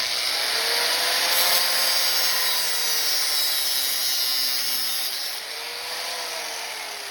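An AN hose is cut straight while clamped in an old vise on a flimsy table, giving a loud, continuous, close rasping whir that eases slightly toward the end.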